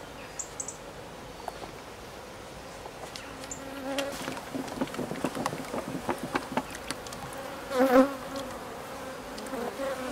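Honey bees buzz around freshly harvested honey, with scattered close passes growing denser midway and one loud buzz sweeping right by, over a quiet outdoor background.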